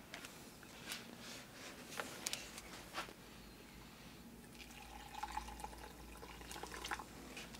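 Water poured into a dehydrated French military MRE lamb stew pouch gives soft intermittent splashes and trickles, close and quiet, with no speech.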